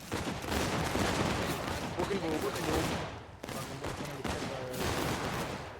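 Musket volley gunfire in a Civil War video game battle: a loud, dense crackle of many overlapping shots rolls on for several seconds, with voices faintly audible beneath.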